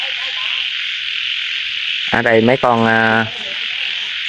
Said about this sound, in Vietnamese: mấy con nhái nó nhái bầu nó kêu quá kêu.